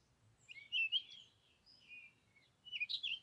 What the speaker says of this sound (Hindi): चिड़ियों की आवाजें हवा में गूंज रही थीं।